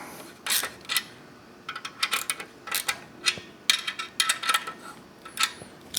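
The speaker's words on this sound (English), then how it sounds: "So now using our 12mm socket, we're going to tighten up" A ratchet with a 12mm socket tightens the exhaust flange bolts on a header and slip-on exhaust, giving quick close bursts of crisp clicking in an uneven rhythm with brief pauses.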